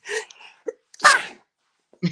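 A single person sneezes up close, a sharp loud burst set between a few quick breathy sniffs and catches in an otherwise quiet room.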